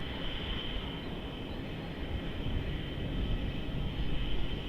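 An airliner departing Melbourne bound for the Gold Coast, a broad, steady jet roar with a constant high whine that grows gradually louder toward the end, alone without voices.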